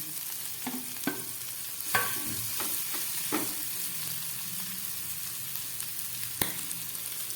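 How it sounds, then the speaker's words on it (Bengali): Fried ingredients are stirred together in a pan, with a soft continuous sizzle broken by several sharp scraping clacks of a spatula against the metal, close by and without talk. "এবার আমি এগুলোকে একসঙ্গে মিশিয়ে দিচ্ছি।"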